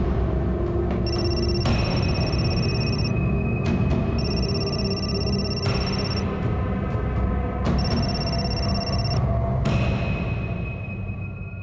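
A telephone rings repeatedly in bursts of electronic trilling tones, with pauses between rings, set against a steady background hum.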